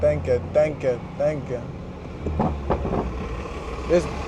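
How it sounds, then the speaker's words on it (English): A loud truck in city traffic, heard from inside a Stage 2 BMW 340i: a low engine rumble swells under nearby talking, with a rougher burst of vehicle noise midway. "Damn, that truck loud as shit."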